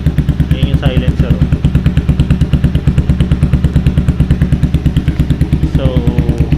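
Motorcycle exhaust fitted with an SC Project bent tip silencer, idling loudly up close with a fast, regular thumping pulse throughout, with brief speech over it.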